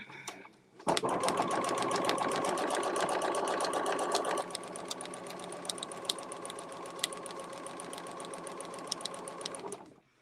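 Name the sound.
sewing machine stitching fabric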